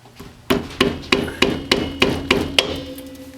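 Seven sharp metallic strikes of a hammer on a hardened chisel, spaced about every third of a second, loud and close, driving off the hub cap from a Ford Escort ZX2 rear wheel hub, with no talk.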